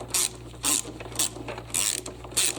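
Ratchet wrench tightening the filter on a Toro CCR 2000 snowblower: five quick bursts of close, crisp clicking in an irregular rhythm, separated by short pauses over a low steady hum.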